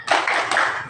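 A classroom of students claps a short rhythmic encouragement clap at the start of a lesson on ablution, a quick burst of several sharp hand claps close by with no talking.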